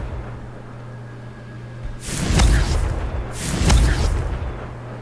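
Two deep booming blasts of the Confringo fire spell in the Hogwarts Legacy video game, each a loud explosive burst about a second apart over a low game hum.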